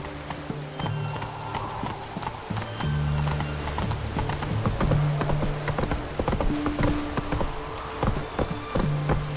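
Roach, a horse in The Witcher 3 video game, trotting with rapid, rhythmic clip-clopping hooves, close and clear over a soft ambient bed, with a brief whinny-like sound and game background noise.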